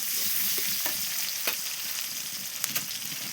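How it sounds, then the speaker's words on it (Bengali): Onion and spices frying in a pan on a clay stove, a steady close sizzle with occasional sharper crackles and stirring scrapes, no voices. "পেঁয়াজটা ভাজা ভাজা করে নিই।"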